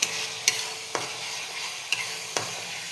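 Egg curry sizzles quietly in a pan while a spoon scrapes and taps the pan in an even rhythm, about twice a second.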